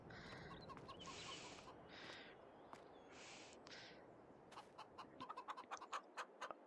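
Chickens on a farm in Farming Simulator 22 cluck in short bursts over a soft ambient bed, then give way to a quick run of sharp, rhythmic pecking-like clicks near the end; no voices.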